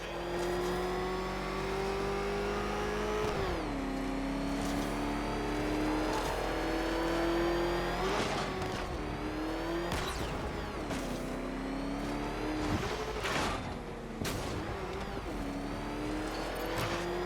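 A car engine in Batman Arkham Knight revs hard and steadily, its pitch climbing and dropping sharply at each shift and turn, loud and continuous with no talking.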